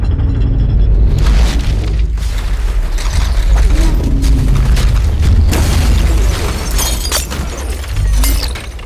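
In a film scene a cafe crumbles around two seated characters, heard as loud rolling booms, crashing debris and shattering glass in dense overlapping layers that sustain a heavy low rumble.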